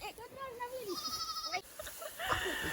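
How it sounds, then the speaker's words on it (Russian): Young goat on a farm bleating in wavering cries, a long drawn-out call midway followed by shorter bleats, close and clear with farm background noise. "Подожди, там козленок."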